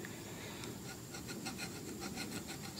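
A Phillips screwdriver scrapes old glue off a motorcycle handlebar while new grips are being installed. Quiet, close, rhythmic rasping strokes repeat several times over a faint background hiss.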